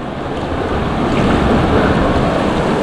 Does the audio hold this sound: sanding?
no